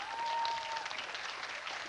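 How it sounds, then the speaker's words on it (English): Faint, distant audience applause from a crowd, steady light clapping heard at low level throughout a short stretch. "A round of applause for them."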